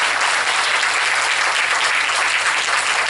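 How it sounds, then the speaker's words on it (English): Steady, dense applause from an audience at an award presentation ceremony, a continuous wash of many hands clapping at even volume with a faint low hum underneath. "This needs a little bigger clap"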